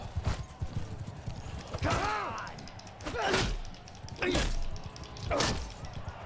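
Horse hooves in the video game Mount & Blade II: Bannerlord, during a tournament arena fight: irregular clopping thuds and scuffs at close range, with a short whinny-like cry partway through and bursts of combat noise around them.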